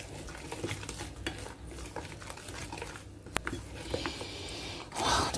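A brightening body scrub being mixed in a bowl, giving a soft, steady stirring and scraping texture with a few sharper clicks, close and fairly quiet throughout.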